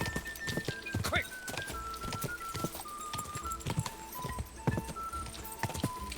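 Horse hooves clip-clop at a quick, steady pace during a horse race in the Kingdom Come Deliverance video game, with a whinny and a few faint voices over the trotting.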